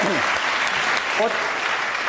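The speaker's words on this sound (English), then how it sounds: "Give him a round of applause." Studio audience applause on a comedy panel show, a loud continuous roar of clapping with a voice briefly speaking over it.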